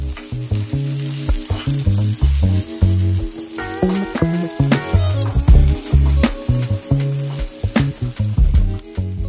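Onion, garlic and ginger fry in oil on a tawa, loud crackling sizzle broken by repeated stirring and scraping strokes in an uneven rhythm, close up and without talk.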